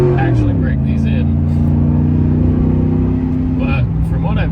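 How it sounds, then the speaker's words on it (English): A Chevrolet Silverado pickup with an NBS big brake upgrade drives along, a steady engine drone with shifting pitch running throughout, while someone talks over it close by. "So just gonna drive around and get these brakes nice and hot."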